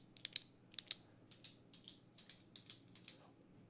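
A pen fiddled with in the hand clicks in a quiet room, a string of small sharp ticks and clacks in irregular bursts, close to the microphone and fairly faint.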